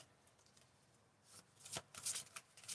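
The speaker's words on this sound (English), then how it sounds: "We're going to get one more card from this deck." A deck of oracle cards is shuffled close by, starting with quiet rustles and building into a few crisp, riffling bursts of card flicks, faint overall and with no talking.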